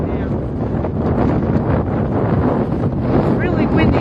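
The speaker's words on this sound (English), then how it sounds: "It's really windy up here, y'all." Strong wind roars and buffets the microphone steadily throughout in Washington, DC, a loud constant rush with gusty surges.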